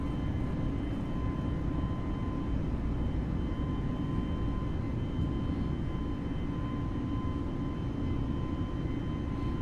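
Airbus A320neo engines roar steadily at climb thrust after takeoff in a flight simulator game, a loud continuous broadband rumble with a faint steady whine, no talk.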